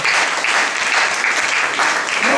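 Sustained applause from a church congregation during a worship service, a dense, steady wash of many hands clapping close and loud for the full stretch without a break.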